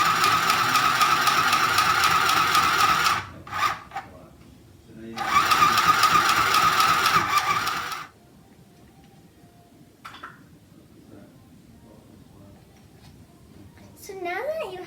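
A sewing machine stitches fabric for a bag in two steady, loud mechanical runs with a short pause between them, then a quieter stretch with faint handling sounds.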